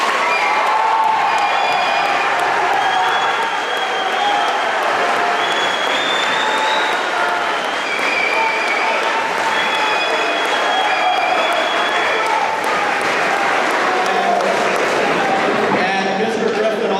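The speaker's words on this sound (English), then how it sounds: "So let's give him a round of applause." A crowd at a high school athletics Wall of Fame induction breaks into loud, sustained applause mixed with cheering and whistles. The noise stays dense and close the whole way through, with voices shouting over it.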